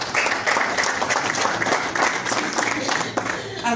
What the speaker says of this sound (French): donc que je vous prie de bien vouloir les applaudir très chaleureusement